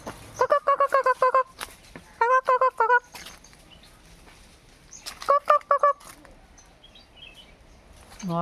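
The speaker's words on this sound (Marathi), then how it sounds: "आणि कोंबड्या सुद्धा दिसत आहेत." Birds call in bursts from a shaded village yard among areca palms in Konkan, rapid repeated honking notes in three loud clusters with quiet gaps between.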